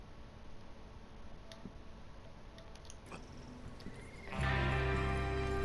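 Horses neigh in Red Dead Redemption 2, with faint ticks and hoof sounds at first, then a sudden loud, sustained swell of in-game noise near the end.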